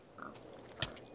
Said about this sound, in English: So much piggy.